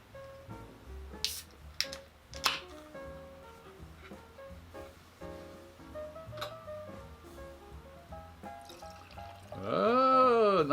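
A can of Prison City DDH Mass Riot beer clicks and taps a few times, then the beer pours into a glass with a rising fizzing, foaming gush at the end.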